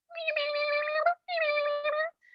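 A human voice imitates a cat's meow as a scout patrol call for an underwater-cat-themed troop, two long drawn-out meows sung clearly and loudly, back to back, followed by a faint short trailing note.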